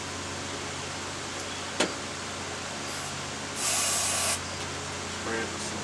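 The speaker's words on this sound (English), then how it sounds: "spray it with some starter fluid" Starter fluid sprayed from an aerosol can into a Craftsman series 675 small engine during a cold start, heard as one steady hiss of just under a second over a constant low hum, with a brief sharp click shortly before.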